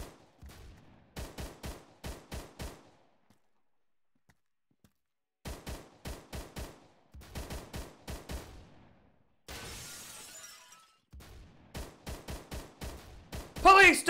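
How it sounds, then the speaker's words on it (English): Video game gunfire in Phantom Forces, repeated bursts of rapid loud shots in clustered volleys separated by short pauses, with a brief noisy rush partway through. "We've got an unknown suspect firing at us from cover"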